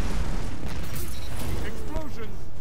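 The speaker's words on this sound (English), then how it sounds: "Explosions can be so beautiful" Rumbling explosions in Destiny 2 blend into a dense, booming wash with clanking and whooshing game effects, steady and loud throughout, with players talking over it.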